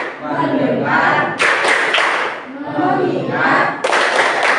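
Children in a classroom clap along to a counting clap chant, bursts of loud rhythmic clapping alternating with short pauses, mixed with voices chanting.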